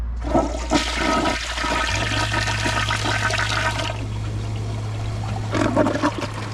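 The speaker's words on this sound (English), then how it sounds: "Here's the flush with a plugged siphon jet." A Kohler Highline Arc toilet on a tall tank flushes with a plugged siphon jet: a loud rushing surge of water for a few seconds, then a tank refill hum and trickle, with a second brief gurgle near the end.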